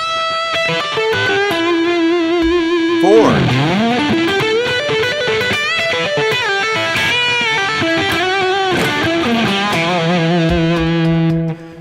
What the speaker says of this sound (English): And if you stack 3 overdrives, which I'm going to do right now, 3 overdrives stacked.